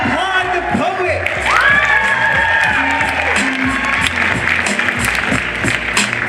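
Audience at a 9th grade poetry slam at McDaniel applauding and cheering a poet after the scores are read, loud crowd noise with whoops and shouts running throughout, mixed with voices and some speech.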